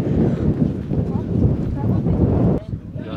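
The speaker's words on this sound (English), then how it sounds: "It's a little bit windy, it's not that cool." Steady, loud wind buffets the microphone outdoors on a trip in Sicily, a constant rumbling roar that drops off sharply near the end.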